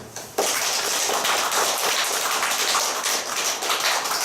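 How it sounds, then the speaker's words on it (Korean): A church congregation claps together in thanks during a worship service, a dense, steady wash of many hands close by that rises abruptly and holds with no voices over it. "우리 모두 하나님께 감사의 박수를"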